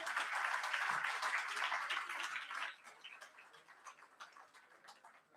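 Audience applause for award winners at a conference ceremony, dense clapping for the first half that thins into scattered, fainter claps.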